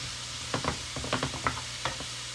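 Half a sliced onion goes into a hot pan, where a soft sizzle hisses steadily under a handful of quick stirring scrapes and taps.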